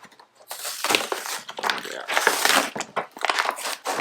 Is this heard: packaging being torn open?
yes